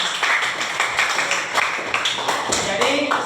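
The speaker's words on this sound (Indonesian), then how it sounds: "Berikan tepuk tangan untuk Bos." Students in a junior high classroom clapping together, a steady patter of many hands that stays fairly loud throughout, with voices mixed in beneath it.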